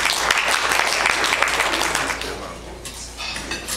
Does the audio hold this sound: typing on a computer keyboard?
no